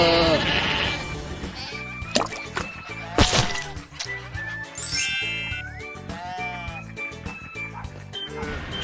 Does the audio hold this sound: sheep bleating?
yes